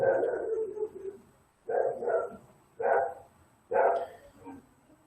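Several dogs bark in short bursts near a coastal location, about four or five distinct barks with pauses between, fairly close and without talk.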